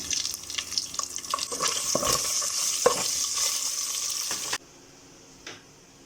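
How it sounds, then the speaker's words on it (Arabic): Pieces of meat searing in oil in a pan, a bright crackling sizzle with a few stirring knocks that cuts off abruptly near the end, leaving near silence and one faint clink. "هنا نشوي باللحم"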